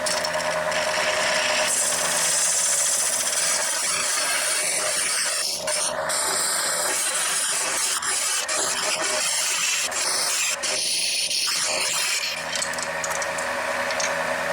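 Steady, dense hissing scrape of a gouge on a wood lathe as the tenon is cut off a turned wooden chalice, continuous and close with slight rasping variations and no talk.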